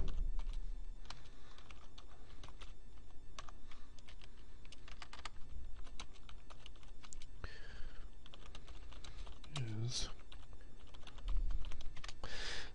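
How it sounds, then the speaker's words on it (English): Steady typing on a computer keyboard: a continuous run of quick, close key clicks with uneven rhythm across the whole stretch, and no voice. "Type in a response for the teacher."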